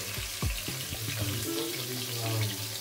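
Pieces of sole fish fry in oil in a pan in a home kitchen, a steady bubbling sizzle that stays close and fairly loud, with a few short clinks near the start and no talking.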